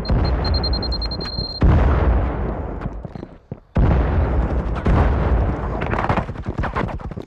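A grenade detonates in a video game firefight, booming loudly in repeated heavy blasts with a brief quiet gap between bursts and a high electronic tone early on.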